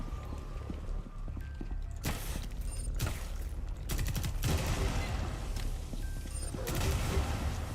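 Video game gunfire in Rainbow Six Extraction, with bursts of shots and mechanical clatter ringing over a steady, busy game soundscape.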